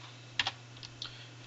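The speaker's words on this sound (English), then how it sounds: "I'm going to quit by typing WQ" A few quick, light keystrokes on a computer keyboard while quitting an editor and compiling a C++ program, clustered in short bursts with gaps of quiet, close and fairly faint over a steady low hum.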